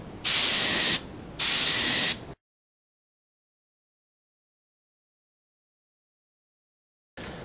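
Two sustained bursts of spray paint as Duracoat is applied to a rifle scope in USMC MARPAT camouflage, loud hissing about a second each, then a long silence and a brief third burst at the end.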